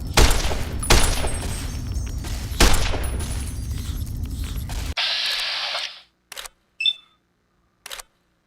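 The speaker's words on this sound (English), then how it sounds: "Bats and see if I can get a couple of shots off" Sharp gunshots fired at bats in the video game Fallout New Vegas: three loud cracks with echoing tails over game ambience, then several short mechanical bursts and clicks separated by silence.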